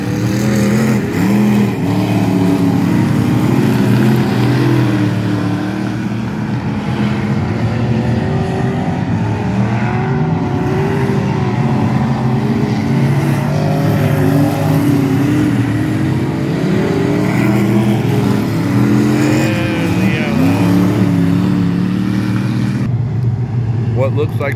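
Factory stock race cars lapping at Tulsa Speedway, with a converted B-Mod leading, make a loud, sustained engine roar with rising and falling revs as cars pass. A voice talks over the noise.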